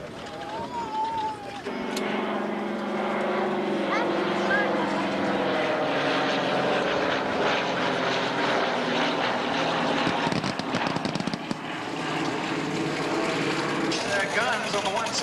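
A C-47 gunship makes a loud, sustained low pass at an air show, its piston propeller engines droning steadily overhead for most of the stretch while an announcer talks over the noise.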